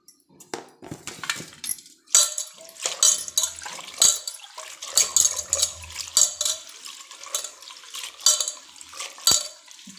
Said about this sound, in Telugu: ఇది రెండోసారి వాష్ చేస్తున్నాను అన్నమాట